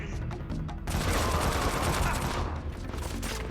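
Sustained video-game gunfire from a combat mission: a dense, continuous burst of rapid shots that starts sharply after a brief lead-in and stays loud throughout, with no talking.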